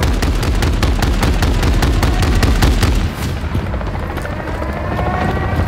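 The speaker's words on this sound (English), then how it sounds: "The attack helo isn't going anywhere." Attack helicopter in the Call of Duty: Modern Warfare 3 (2023) campaign, with dense rotor thumping and heavy gunfire-like bursts through the first three seconds, then a loud, steady rumble.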